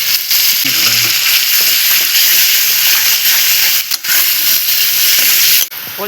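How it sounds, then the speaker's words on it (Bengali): Green chillies and tomatoes sizzle loudly in hot oil for a boal fish curry, a steady close frying hiss with occasional stirring scrapes and brief pauses near the end. "এবার আমি কাঁচা লঙ্কা আর টমেটোটা দিয়ে দিচ্ছি।"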